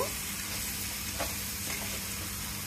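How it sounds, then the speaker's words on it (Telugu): Country chicken curry with tamarind juice is stirred in a hot pan, a continuous close sizzle with a scrape of the spoon partway through. "కూరకు పట్టేలాగా కలుపుకోవాలి"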